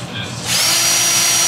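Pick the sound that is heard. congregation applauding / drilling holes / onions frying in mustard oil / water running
drilling holes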